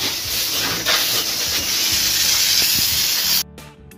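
A hotel worker's sprayer hisses loudly and steadily at Hotel Besakih in Bali, a continuous pressurized spray that cuts off abruptly near the end.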